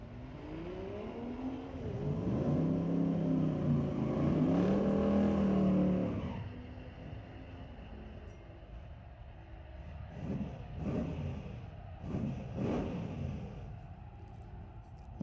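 Drag race cars launch and roar down the strip at an NHRA Division 6 ET Finals meet at Mission Raceway Park, one loud rising engine howl that fades off, followed by quieter distant crowd and track noise.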